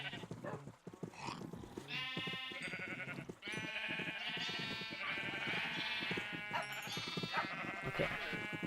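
Sheep in the game Minecraft bleat repeatedly, several overlapping wavering cries coming close together over a steady background, with voices talking underneath.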